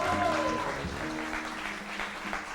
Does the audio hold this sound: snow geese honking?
no